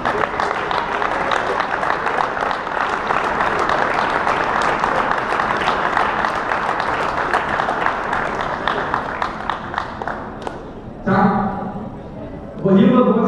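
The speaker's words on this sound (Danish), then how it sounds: "Lad os give dem hånd." A crowd at a Danish championship prize ceremony applauds the award winners with loud, sustained clapping for about ten seconds before it fades and a voice speaks over a microphone.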